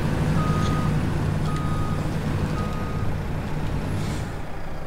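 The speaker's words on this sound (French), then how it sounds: "j'entendais un bip de recul mais je voyais pas d'où ça venait" Steady, evenly spaced reversing beeps from a backing truck in Farming Simulator 17 on the Ebsdorfer Heide map, sounding over a continuous low engine rumble, moderately loud and unbroken throughout.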